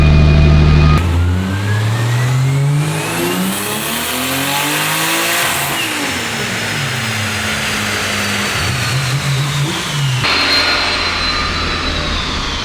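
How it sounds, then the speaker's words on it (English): A Nissan R34 Skyline engine revs hard through a dyno pull, its loud, close roar sweeping up in pitch over several seconds, dropping off, then climbing again with a rising turbo whine layered over it. "That pulled so fast, and I have a lot of load on the dyno right now"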